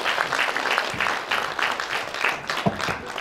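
An audience at a folk music ensemble festival claps steadily throughout, a warm, continuous round of applause with no other sound over it.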